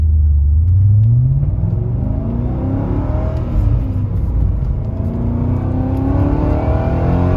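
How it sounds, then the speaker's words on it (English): A BMW M5 engine revs up and then holds a deep, loud exhaust rumble, with rising and falling harmonic tones and a steady throaty drone close by throughout. "I'm pretty sure I'm hearing the air of each cylinder exhaust stroke hitting into the exhaust manifold walls"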